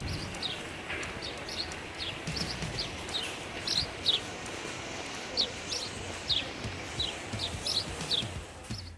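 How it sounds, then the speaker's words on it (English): House sparrows chirping in short, bright bursts, a steady scatter of quick calls at moderate distance over a faint outdoor background hiss. "Here's what these little chatty birds sound like."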